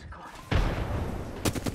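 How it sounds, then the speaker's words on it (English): Bursts of automatic gunfire from another squad in the battle royale game Apex Legends, a sudden loud volley followed by a sustained rattle and a second burst near the end. "Is that another squad shooting them?"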